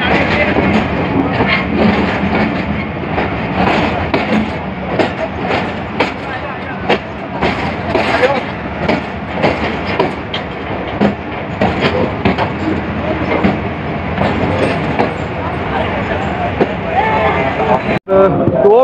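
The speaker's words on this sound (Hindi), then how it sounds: "दो मिनट स्टॉप करने के बाद गाड़ी जो है वो कोट लखपत स्टेशन पर रवाना हो चुकी है" The Allama Iqbal Express train departs Kot Lakhpat station in Lahore, rumbling along with rhythmic clatter and dense crowd chatter throughout, steady and loud, ending with a brief sharp break.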